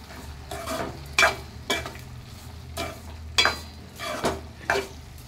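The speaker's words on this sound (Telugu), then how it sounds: "టేస్ట్కి తగినంత ఉప్పు, ఒక హాఫ్ స్పూన్ పసుపు. టమాటాలు అయితే మగ్గిపోతున్నాయి." Tomatoes cook with salt and turmeric in a pan over a low sizzle. A spoon scrapes and stirs in about eight distinct strokes, fairly close.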